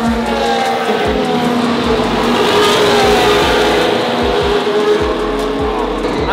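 Formula 1 race cars at the Qatar Grand Prix roar past continuously, a dense, loud engine wail with shifting pitch and repeated passing surges throughout, no talk over it.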